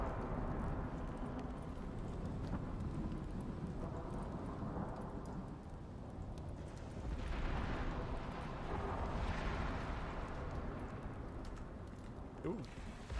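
Grenade blasts in the video game Icarus, heavy rumbling booms swelling over a constant roar of storm-like noise, while a person talks over it.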